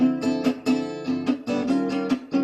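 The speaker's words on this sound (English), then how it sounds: "I'm just doing upstrokes on open strings" Quick guitar upstrokes on open strings, played slowly as a run of bright, even strums close up with a steady pulse and no talking.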